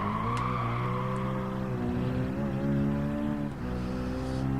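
A race car in Gran Turismo 7 sliding around and braking, its loud engine droning steadily throughout while tires squeal and skid over the top.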